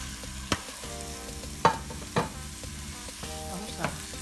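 Two meats frying in a pan with onion and garlic, a steady close sizzle broken by a few sharp clacks of a utensil stirring and scraping the pan.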